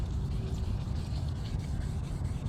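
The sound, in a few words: sanding a car with very fine sandpaper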